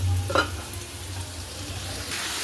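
Marinated chicken frying in hot oil in a home kitchen, a soft continuous sizzle with a short sharper burst near the start, steady and fairly close with no talking.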